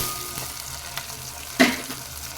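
Finely chopped tomatoes sautéing in a pan for garlic kuzhambu, a steady close sizzle of frying with soft stirring scrapes and one sharper burst of hissing partway through.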